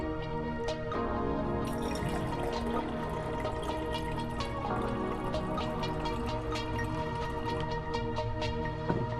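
Liquid pouring and dripping in the bartending game The Red Strings Club as bourbon is poured, a steady trickle with intermittent drips over a sustained musical background, no talking.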